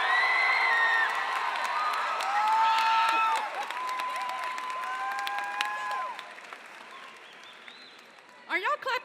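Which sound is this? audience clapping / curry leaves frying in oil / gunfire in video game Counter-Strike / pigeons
audience clapping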